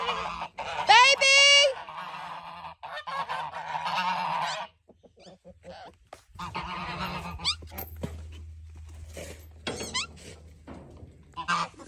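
Pet birds honk like geese, with loud, close nasal calls in bursts and some scattered thumps and shuffling between them.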